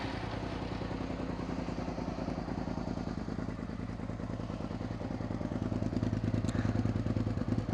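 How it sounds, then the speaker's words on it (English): A warmed-up Suzuki SV650S motorcycle with a Delkevic 200mm stubby exhaust idles close by, giving a steady, throbbing low-pitched rumble with a rapid even pulse that grows slightly louder toward the end. "Beowulf, the bike's fully warmed up because I've just got back from work"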